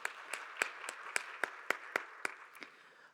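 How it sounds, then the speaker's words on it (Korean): Church congregation at a Korean youth worship service clapping, a sparse, evenly spaced series of about a dozen claps, fairly faint against a soft room background with no speech. "박수로 서로를 격려하겠습니다"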